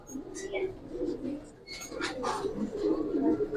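Fancy and racer pigeons such as Giribaz coo in low murmurs at close range while people talk over them in the background.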